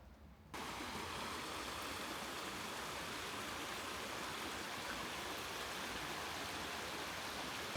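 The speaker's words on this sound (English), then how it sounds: "When there's running water, there's often icicles and fun little ice formations. So let's see if I go down here. This is our creek." Running water of a snowy winter creek rushes steadily in a broad, even wash, starting abruptly after a brief quieter moment and continuing close and loud throughout with no voices.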